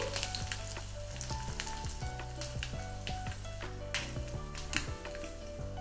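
Tempering seeds and dried red chillies crackle and sizzle steadily in oil over a medium flame, with intermittent spluttering pops and light stirring taps throughout, close up over a faint tonal hum, with nobody talking.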